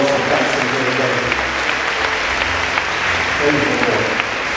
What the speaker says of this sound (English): can we clap our hands and give the Lord some thanks